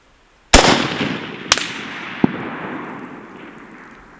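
Three rifle shots ring out at a target outdoors: a loud first crack, then two sharper reports at roughly one-second and longer gaps, each followed by a long rolling echo that fades slowly.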